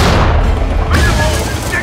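A Sherman tank's cannon fires an armor-piercing round in a war film battle against a Tiger tank, a loud, close, heavy boom with a low rumbling tail lasting the whole moment, amid battle noise.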